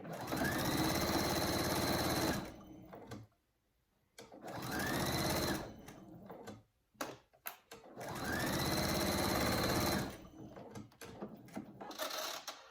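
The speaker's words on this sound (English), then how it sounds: "sew a little more, turn it, sew a little more, turn it, and keep going until you get to where you started" Sewing machine stitching a small hanging microbat pouch in several close, loud whirring runs of two to three seconds each, separated by quiet pauses and light handling noises.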